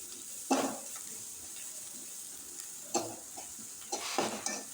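Chopped onions frying in a pan as they are stirred, a soft steady sizzle with several distinct scraping stir strokes coming in short bursts, fairly quiet and close.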